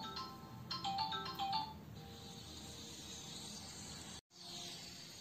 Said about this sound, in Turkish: Telefon çalınca biraz ara verdik.